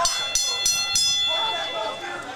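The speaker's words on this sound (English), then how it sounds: "there's the bell" Wrestling match bell at a live event, struck three times in quick even succession and ringing on, followed by crowd noise and a commentator's voice over the fading tone.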